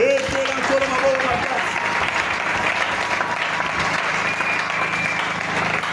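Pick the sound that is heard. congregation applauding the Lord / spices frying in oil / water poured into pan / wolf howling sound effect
congregation applauding the Lord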